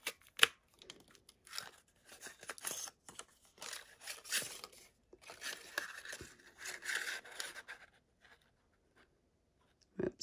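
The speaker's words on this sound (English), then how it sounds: "So I'm just going to go ahead and punch those out." A handheld craft punch cuts out stamped paper flowers, giving a string of close crunching, clicking and paper-scraping sounds in uneven bursts with short pauses between them, no voices.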